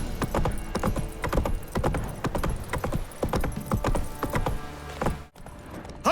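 Hooves of the horse Roach pound in a quick, steady galloping rhythm in The Witcher 3, close and clear throughout before stopping abruptly near the end.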